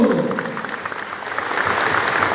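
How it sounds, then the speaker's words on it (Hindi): Loud crowd clapping at a political speech rally, a broad steady roar of many hands that sounds somewhat distant and washed out, with a voice briefly audible at the start. "तो जोर से ताली दो।"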